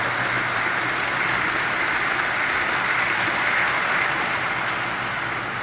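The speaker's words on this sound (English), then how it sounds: "On our Pennsylvania Flyer layout with my brand new Lehigh Valley engine." A model train pulled by a Lehigh Valley engine runs on a Pennsylvania Flyer layout hauling a line of oil cars, giving a steady, continuous rumbling whir at close range with no break.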